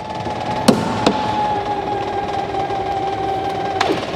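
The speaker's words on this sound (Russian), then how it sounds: "И работает насос, как вы слышите." A steady mechanical whir from a DG 500 M motor glider's fuel pump, constant droning pitch throughout, close by, broken by a few faint clicks.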